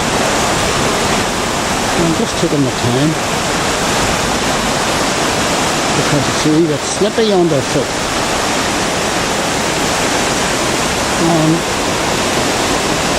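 Steady rushing flow of a river running into a culvert in Belfast's Waterworks park, loud and close, with someone talking over it.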